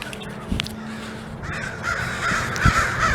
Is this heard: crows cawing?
yes